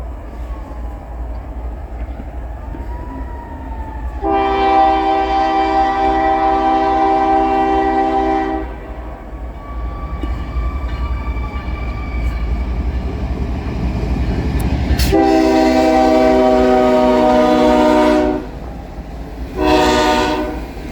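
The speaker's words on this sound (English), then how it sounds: "This is the last train of the video with your standard Norfolk Southern Power leading a coal train." Norfolk Southern locomotive leading a coal train sounds its horn in loud, sustained blasts, one long, a pause, then another long blast and a short final one, over a steady rumble of the passing train.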